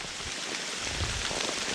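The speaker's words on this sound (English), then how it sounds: "And this rain is really coming down" Heavy rain pours down across an outdoor cemetery, a dense, steady hiss of drops hitting the ground, stones and foliage nearby, with no voices over it.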